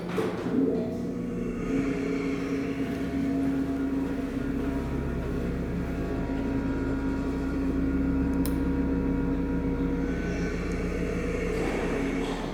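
A vintage late-1970s Dover traditional hydraulic elevator's motor runs steadily, a loud, continuous droning hum with a low rumble that holds unchanged from start to finish, alone with no talking.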